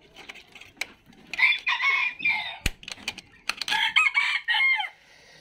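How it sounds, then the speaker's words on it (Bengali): Silkie and Polish cap hens kept as a hobby flock clucking and crowing in a busy, overlapping chorus, with repeated loud calls close by and a brief sharp knock midway, no talking. "অনেকগুলো সিল্কি মুরগির কালেকশনই আছে।"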